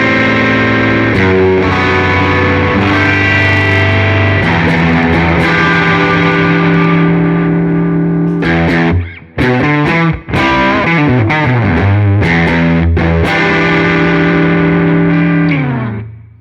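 Fuzzy, distorted electric guitar drenched in reverb, long sustained chords with a burst of quick choppy strums in the middle, played alone and loud.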